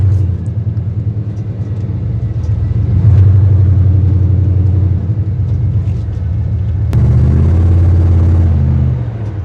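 A 1989 GMC K1500 Trail Master truck drives and shifts gears, its engine giving a low, steady rumble that climbs, drops sharply at a gear change, then builds again, close and loud with no talk.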